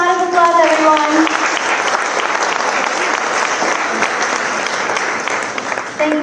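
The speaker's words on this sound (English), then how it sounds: "Let's give them a round of applause," Audience applause for performers called onto the stage at a Mahavir Jayanti celebration, sustained and dense throughout, with a brief tonal voice or music trace at the start.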